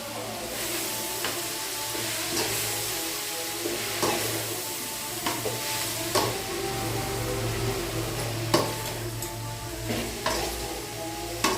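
Mixed leafy greens such as amaranth sauté in a hot pan with a steady sizzle, broken by regular scraping stirs of a spatula, close and without talk.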